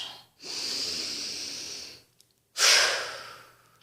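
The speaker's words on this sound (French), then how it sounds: "je souffle en relâchant" Long audible breath during a seated chair yoga exercise for the back: a sustained airy inhale, a short gap, then a strong forceful exhale that tapers off as the shoulders drop, close to the mic.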